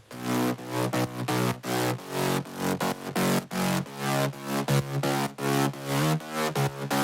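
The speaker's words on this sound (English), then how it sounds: "This is what the main mid basses sound like." Synth mid basses from an FL Studio remake, built from cut-off saw patches. They play as loud, punchy stabs in a choppy, syncopated rhythm with bright, gritty harmonics and no talking.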